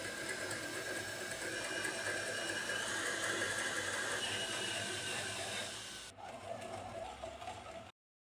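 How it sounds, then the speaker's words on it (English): An electric drill bores holes vertically through a drilling guide, giving a steady, loud whirring drone that changes tone near the end and then stops abruptly. "I used a drilling guide to ensure I drilled the holes perfectly vertically"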